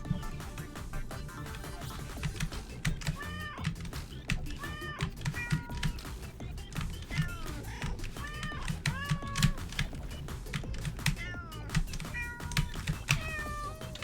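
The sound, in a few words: cat meow bumper sounds in video game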